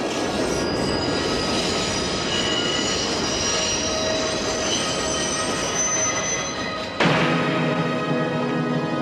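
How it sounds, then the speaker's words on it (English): A film scene with a train rattling past, wheels squealing and cars clattering in a loud, continuous roar that holds steady, then shifts abruptly near the end as the sound changes character. "There's a train rattling past and it gets closer and closer"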